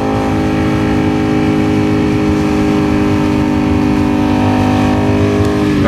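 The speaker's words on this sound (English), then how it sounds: "This bike sounds phenomenal." A motorcycle engine idles and revs loudly up close, a rich throbbing tone that holds steady throughout with no talking.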